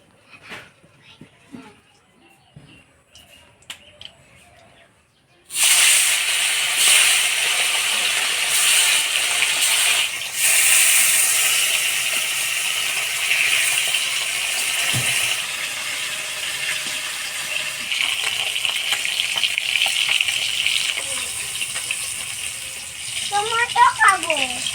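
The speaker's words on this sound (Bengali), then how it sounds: "এবার মাছগুলা ভাজে নিব।" Small puti fish hit hot oil after a few quiet seconds, starting a loud, bright sizzle and crackle that carries on steadily with occasional spatters and pops, while brief voices are heard near the end.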